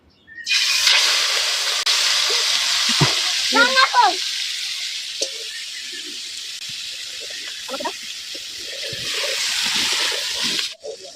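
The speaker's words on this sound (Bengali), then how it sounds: "উচ্ছের ম্যাজিক ফ্রাইয়ের জন্য আমরা চিংড়ি মাছটাকে প্রথমে ভেজে নিচ্ছি।" Prawns for a bitter gourd fry sizzle steadily in a hot pan, a loud continuous hiss with occasional stirring scrapes and faint voices in the background.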